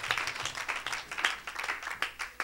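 A church congregation clapping in praise, a lively run of quick handclaps with a few stronger bursts, fairly near and steady, with voices faintly mixed in.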